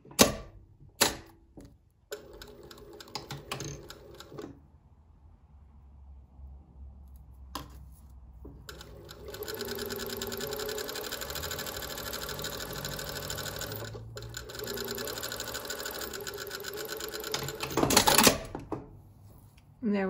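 A sewing machine stitches a seam through layered orange and pink tulle on a tutu skirt, with a few short bursts early, then one long steady run of fast stitching, and brief clicks and handling noise near the end.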